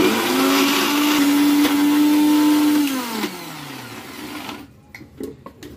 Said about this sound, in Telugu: ఇప్పుడు మిక్సీ పట్టేస్తాం